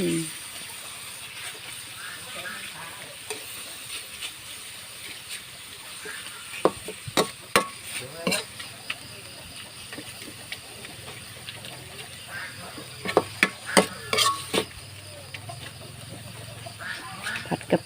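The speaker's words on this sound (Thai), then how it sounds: "เราก็จะผัดกะปิกับหมูของเราให้เข้ากัน" Shrimp paste from Rayong being stir-fried with cooked pork in a pan for Thai long beans with shrimp paste: a steady low sizzle, with bursts of sharp spatula scrapes and clacks near the middle and again toward the end.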